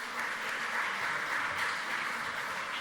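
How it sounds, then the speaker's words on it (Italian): Audience applause for a panel speaker at a round-table discussion on the dignity of the Sicilian language, steady dense clapping filling the room throughout, fairly close and even in level. "allora gli applausi per Giuseppe Denaro"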